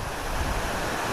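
Munduk waterfall, a tall fall with a small flow ringed by cliffs above a natural pool, gives a steady, dense rush of falling water with no breaks.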